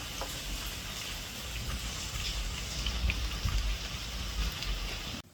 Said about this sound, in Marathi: पावसाने तर आज कहर केलेलं आहे